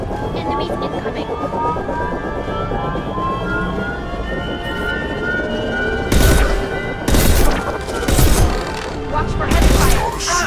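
Heavy gunfire in the video game Mass Effect, fighting the Human Reaper at the endgame: loud bursts of shots break in during the second half over a dense bed of game noise, and voices can be heard.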